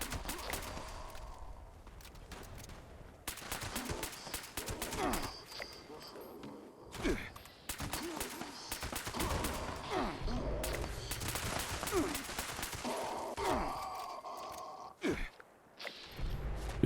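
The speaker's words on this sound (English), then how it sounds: "Who's shooting at me?" Gunfire in the video game Fallout 76, a dense run of sharp shots and bursts going on across the whole stretch, with short pauses and scattered in-game grunts and voices mixed in.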